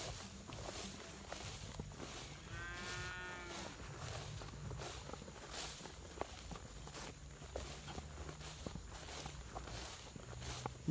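Cows running outdoors, heard faintly: scattered hoof thuds under a steady background, with one low, drawn-out moo early on.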